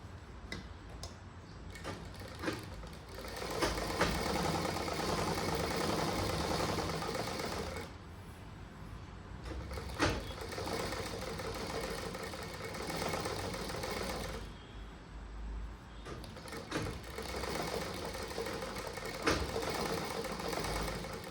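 A sewing machine stitches a cross-cut blouse in a steady, close, continuous whir, broken by a few short pauses between seams.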